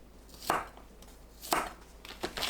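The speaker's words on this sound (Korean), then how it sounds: "마늘을 편으로 썰어주세요." A knife cuts through garlic cloves on a cutting board, making a few crisp, close chops spaced about a second apart, with a quicker double chop at the end.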